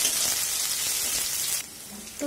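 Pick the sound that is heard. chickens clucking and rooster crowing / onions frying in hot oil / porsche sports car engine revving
onions frying in hot oil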